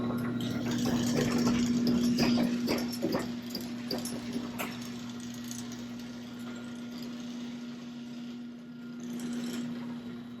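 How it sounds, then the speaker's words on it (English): A tractor engine idles with its muffler removed, a steady close throbbing drone with a strong low hum that is slightly louder at first and then settles, no talking. "the muffler on this tractor is taken down."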